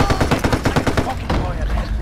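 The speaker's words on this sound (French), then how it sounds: "on peut éventuellement tirer à la mitrailleuse lourde sur les ennemis" Heavy machine gun fire at enemies in the VR game Wanderer: rapid, loud bursts of evenly spaced shots, close up, with a short pause before the firing resumes.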